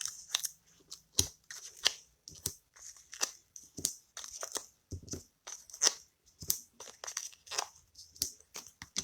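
Scissors snip through paper ends while trimming a handmade paper pumpkin card kit, giving a quick, irregular run of close, crisp cuts with faint crinkling and no talk.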